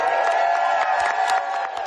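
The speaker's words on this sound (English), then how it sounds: "Give a round of applause for everybody and their hard work on this legislation." Applause and crowd noise fill the room at a governor's bill signing ceremony, a dense, even roll of clapping with a few scattered sharper claps standing out.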